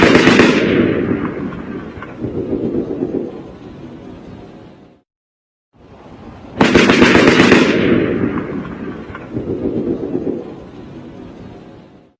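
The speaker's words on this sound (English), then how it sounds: "the automatic rounds fired during the cab video" Recorded automatic gunfire from the Las Vegas shooting, slowed down, comes as two long bursts of rapid booming, echoing rounds separated by a short silence; each burst opens with a sharp crack and then rolls on loudly.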